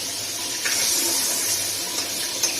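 Water is poured into a pan of buttery soup for cough and cold, a soft, close splashing pour with a couple of brief louder bursts and no talking.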